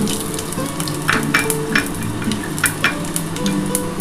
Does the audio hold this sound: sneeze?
no